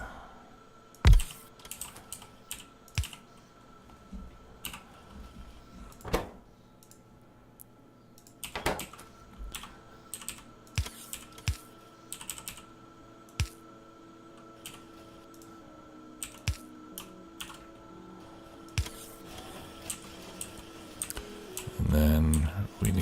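A computer keyboard is typed on during a game of Factorio, scattered bursts of clicking keystrokes with irregular pauses, close and moderately loud, then a louder rustle near the end.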